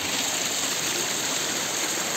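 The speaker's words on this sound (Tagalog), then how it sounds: "maraming dumadaloy na tubig." Stream water flows over rocks beside a mountain trail on Dinagsaan Peak, a steady close rushing and gurgling with no pauses and no voices.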